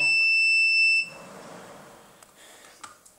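A security camera's motion-detection alarm sounds as a loud, steady high-pitched tone that cuts off after about a second, followed by faint rustling and a few small clicks.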